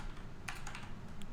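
Fast typing on a computer keyboard while setting up a mod script, a steady patter of close, light key clicks with a few sharper taps, no voices.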